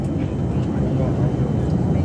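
Steady, loud airplane cabin rumble as the plane banks and turns during descent toward Tenerife, a dense low roar with no breaks.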